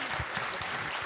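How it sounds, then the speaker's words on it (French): Concert audience applauds a wind band at a Sainte Cécile concert, a short burst of dense clapping at moderate volume with a few low knocks underneath. "on peut les applaudir"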